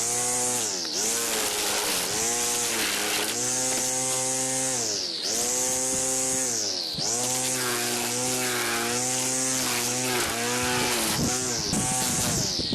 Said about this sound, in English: All right, let's do some more trimming.